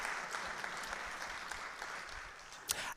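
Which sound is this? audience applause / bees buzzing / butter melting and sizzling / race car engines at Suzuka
audience applause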